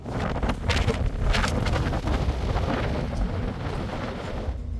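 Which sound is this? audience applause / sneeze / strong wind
strong wind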